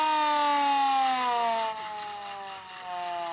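Manual civil defence siren sounding during an Odisha drill, a loud harmonic wail that slowly winds down in pitch over a few seconds, alone with no talk.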